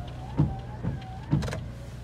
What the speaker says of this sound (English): Driver's window. Passenger window.